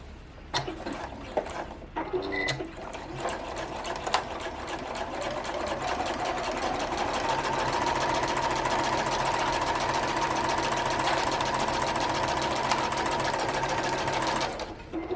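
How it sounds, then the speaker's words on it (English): A sewing machine stitches the side and bottom seams of a handbag liner at a half-inch allowance. After a few clicks and adjustments it settles into a loud, steady, close mechanical whirr that runs almost to the end. "we are going to stitch down the sides, across the bottom, and up the other side at our regular 1/2 inch seam allowance"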